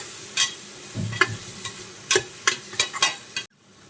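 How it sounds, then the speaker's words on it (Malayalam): Onion, tomato and coriander leaves sauté in hot oil in a pan for a fried chicken dum biryani, with a steady sizzle broken by sharp stirring scrapes before it cuts off abruptly. "മല്ലിയിലയും കൂടെ ചേർത്തിട്ട് നന്നായിട്ട് എല്ലാം കൂടി നമുക്കൊന്ന് വഴറ്റി കൊടുക്കാം."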